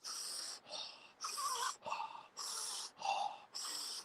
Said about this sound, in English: Feel the breath.